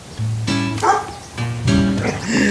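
Dogs in a kennel bark and yip close by in two quick, agitated bursts, with whining snarls mixed in, like a scuffle between them.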